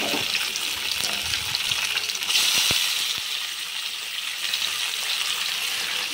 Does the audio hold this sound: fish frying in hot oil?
yes